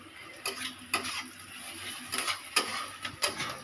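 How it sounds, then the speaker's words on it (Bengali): Chowmein frying in a pan, a low sizzle broken by sharp clanks of a utensil scraping and stirring against the metal, roughly five distinct knocks. "এখানে ভাজাটা প্রায় হয়েই এসছে"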